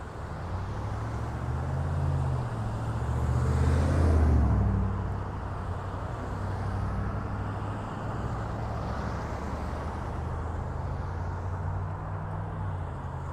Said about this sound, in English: Boy, a lot of traffic.